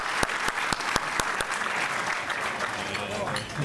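Dinner audience applauding, dense continuous clapping with a few sharp rhythmic hand claps standing out near the start, and a voice speaking faintly underneath.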